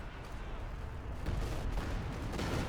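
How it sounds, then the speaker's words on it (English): German artillery hammering away in Company of Heroes 2, a dense, rumbling barrage of booms and blasts filling the scene continuously, with faint voices beneath. "Seeking is being torn apart here by German artillery, just repeatedly hammering away"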